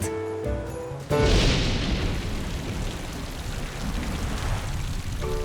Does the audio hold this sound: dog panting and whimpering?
no